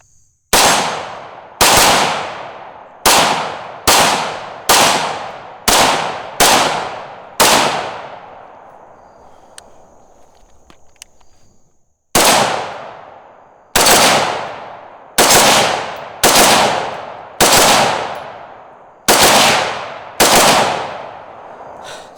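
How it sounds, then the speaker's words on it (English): A Bushmaster ACR Enhanced rifle fitted with a 40-round Magpul magazine, fired as sharp, loud single shots in a quick string of about eight, then a pause, then about seven more. "Bushmaster ACR Enhanced basic combination custom gun. Let's do it. Let's shoot it."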